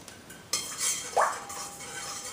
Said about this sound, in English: I'm going to stir them together